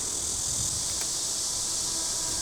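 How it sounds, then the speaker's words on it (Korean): Male cicadas sing in summer with a continuous, high, hissing buzz that stays even and unbroken throughout the short stretch, with no voices. "매미의 울음소리는 수컷이 낸다."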